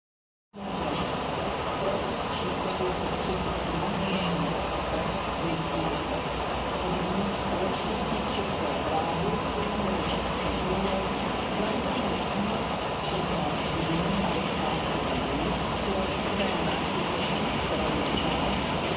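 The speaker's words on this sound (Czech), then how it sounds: "Přijíždí rychlík Berounka z Plzně." The Berounka express train from Plzeň arrives, a broad steady rumble of rail noise starting abruptly and holding loud and constant, with faint speech under it.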